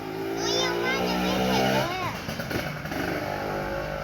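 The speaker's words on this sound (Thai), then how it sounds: "เสียงมอไซค์ดังมาก" A motorcycle engine drones loudly nearby, its pitch rising and falling as it passes, while children talk and play in the background.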